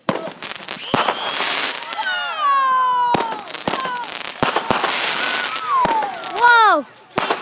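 Fireworks going off outdoors near a ball field, with repeated sharp bangs, crackles and whistling streaks rising and falling, loud and close, with people talking and shouting in between.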